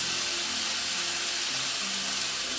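Drained, squeezed sauerkraut hisses and sizzles steadily in a warm pan, a soft continuous frying crackle heard alone at close range.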